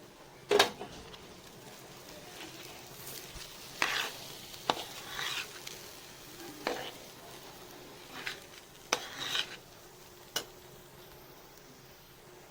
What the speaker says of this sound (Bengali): পোলার চাউলটা ভালো করে ভাইজা নিব।